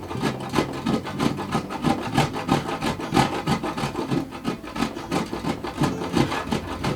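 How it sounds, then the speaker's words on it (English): A hard wedge of Parmesan cheese is rubbed by hand over a grater, a close, steady rhythm of rasping scrapes repeating several times a second without pause. "I'm going to go ahead and grate the cheese."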